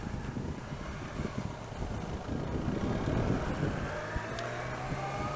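A BMW K1200LT touring motorcycle is shifted into gear and ridden on the road, its engine a low steady drone under heavy wind rush that swells slightly as it gets moving, with no speech.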